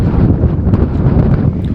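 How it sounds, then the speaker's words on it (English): Wind buffeting a microphone at a railway centre on a wet, blustery day, a loud continuous low rumble with gusty swells and no talking. "It's a bit of a windy day"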